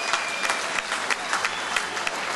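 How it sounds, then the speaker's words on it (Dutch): Dinner-style audience applause greets a guest invited onstage to talk about a documentary film, a continuous, even patter of many hands clapping with a faint crowd murmur underneath. "Geef hem een hartelijk applaus"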